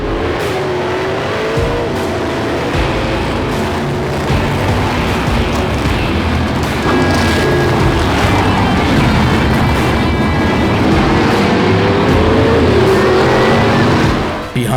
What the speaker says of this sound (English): Marcel Berry in pole is off to a flying start